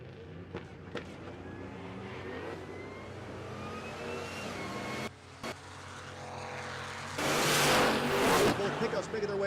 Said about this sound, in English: Pickups making their way down the 1320.